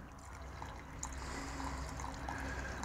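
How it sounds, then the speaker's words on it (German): Water poured into a container to make up 800 millilitres of oxymel, a honey and vinegar remedy: a steady, soft, continuous trickle heard close and quiet, with no talking. "Und da füllen wir jetzt auf 800 Milliliter."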